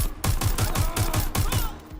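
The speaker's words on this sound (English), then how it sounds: "Gunfire!" Rapid, evenly spaced gunshots in the game Valorant, about eight in two seconds, loud and close, with the sharp punch of game gunfire.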